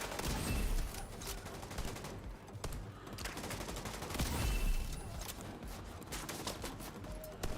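Video-game gunfire from The Division 2 rattles in dense, rapid bursts of shots with short gaps, steady and fairly loud throughout, with no speech.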